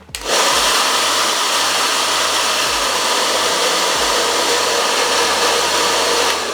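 Heat gun blowing hot air to warm vinyl wrap on Dodge wheel center caps, a loud, steady, close roar that starts abruptly and continues without a break.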